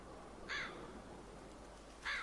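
Crow cawing in The Walking Dead video game, two short harsh caws spaced apart over a quiet low background hum, fairly clear and alone.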